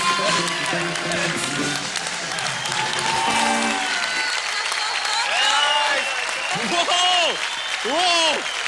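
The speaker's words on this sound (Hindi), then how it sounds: "यार ये तालियां रोको मत, कोई भी तालियां रोको मत" Studio audience applause on a Hindi TV comedy/drama talent show, a steady wash of clapping throughout, with a voice speaking and rising, sung-like exclamations over it toward the end.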